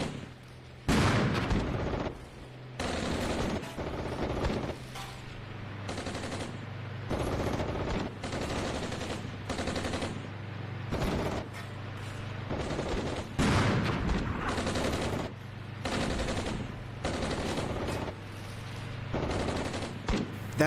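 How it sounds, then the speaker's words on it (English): Mortar and gunfire in the Armored Brigade 2 tactical wargame: repeated loud bursts and booms over a steady low engine rumble, coming in irregular clusters across the whole stretch. "Going to pay a little bit of attention here to see if this mortar works."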